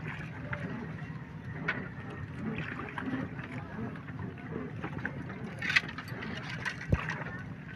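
A fishing boat heads out to sea, its engine and water noise forming a steady low rumble throughout, with occasional knocks and splashes close by.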